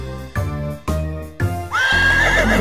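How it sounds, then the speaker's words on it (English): Three short horse neighs come in quick succession, then a longer, shrill whinny rises and wavers, loud and close, with music underneath and no talk, in a farm-animal nursery rhyme. "A horse is in the barn"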